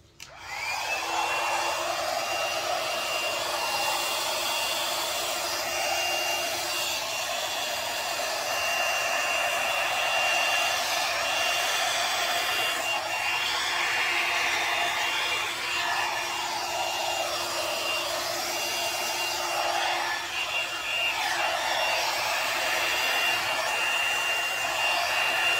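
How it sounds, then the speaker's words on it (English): Blow dryer aimed at wet navy-blue paint on a canvas during a Dutch pour, a steady loud whooshing hum running continuously from start to finish with no talk. "We'll take our blow dryer and just blow that right on over."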